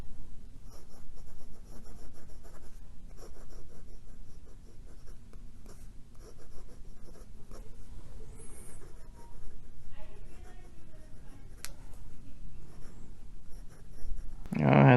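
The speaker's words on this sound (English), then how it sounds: "we got the Parker Jotter inked up with the blue cartridge it came with, writing on a Rhodia 80 GSM lined pad" Blue-cartridge Parker Jotter fountain pen nib scratching across a Rhodia 80 gsm lined pad, a close, continuous soft scritching of strokes with brief pauses, a low background hum beneath it.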